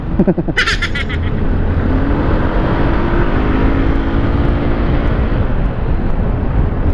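An FKM Slick 150 motorcycle engine roars loudly and close, revving hard at first and then holding a steady, rough high drone.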